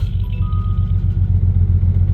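A damaged car engine idles after a burnout with a heavy, uneven low rumble and clattering pulse, loud and close, with no talking over it.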